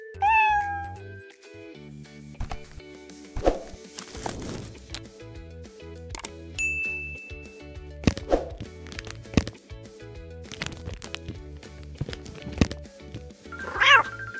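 A cat meows repeatedly and close by in a kitchen setting, its meows and drawn-out yowls scattered among thumps and light clatter, with no talking.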